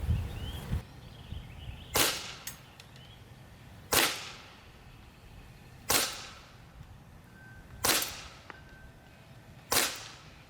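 A Sig Sauer P320-X Carry .177 blowback CO2 BB pistol firing at a target, six crisp snapping shots about two seconds apart, each trailing off in a brief echo over quiet outdoor background.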